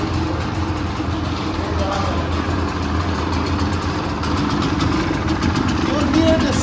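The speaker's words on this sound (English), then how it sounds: "Just start the bike." An old Honda CRM motorcycle engine runs at a steady idle, a continuous close throbbing rumble with slight fluctuations and a small rev near the end, with a voice talking over it.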